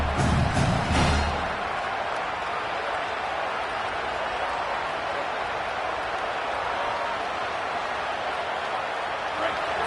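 Steady roar of a stadium crowd in a college football video game, a broad continuous wash of noise lasting throughout, with a commentator talking over it.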